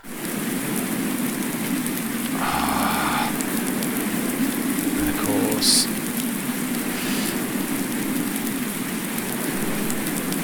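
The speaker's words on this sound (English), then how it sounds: "It is raining." Steady rain falling on farm fields in a farming simulation game, a constant hiss of rainfall throughout, with a few brief interface tones and someone speaking briefly over it.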